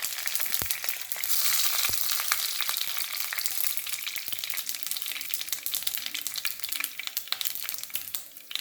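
Mustard seeds and dried red chillies fry in hot oil for a buttermilk kuzhambu, giving a dense, crackling sizzle with sharp pops that carries on steadily at moderate volume.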